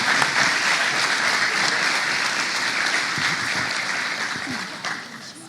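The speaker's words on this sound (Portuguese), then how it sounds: "Podem aplaudir." An audience applauds at a church couples' gathering, with dense, loud clapping that stays steady and fades slightly toward the end.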